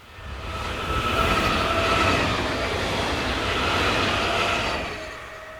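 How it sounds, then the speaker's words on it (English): SETG locomotive 193219 hauls a loaded timber train from Plattling to Bremen-Groland on the Würzburg–Gemünden line, a steady close rumble of wagons with faint wheel squeal tones throughout. "SETG's 193219 has charge of this loaded timber train from Plattling to Bremen-Groland"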